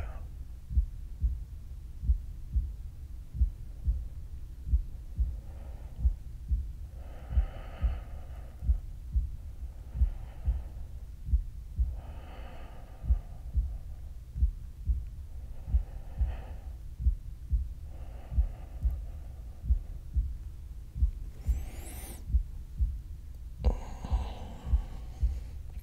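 A steady heartbeat thumps close and muffled at a regular pace, probably a little fast, heard with the ear pressed to a resting person's chest, under soft faint breathing and a low hum.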